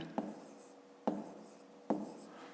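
A pen or chalk writing out a math expression, three separate bursts of scratchy strokes roughly a second apart, each starting with a sharp tap and trailing off, quiet and close with no talking.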